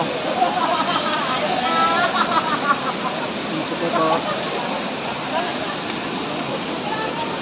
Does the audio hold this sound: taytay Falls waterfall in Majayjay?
yes